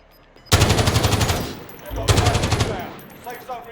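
Gunfire in Call of Duty Modern Warfare: two loud, close bursts of rapid automatic fire, the first longer than the second, with a brief gap between them and a fading tail.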